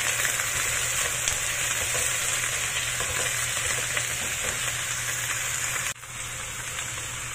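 Pork skin sizzles steadily in a hot pan for a stir-fried cabbage dish, a loud, continuous close frying hiss that dips slightly near the end.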